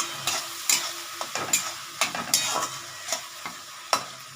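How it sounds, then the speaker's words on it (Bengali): Onions frying in a pan, with a soft steady sizzle broken by repeated scraping stirs at an uneven rhythm, close by, with no talking. "এটা হালকা একটু ভেজে নিই"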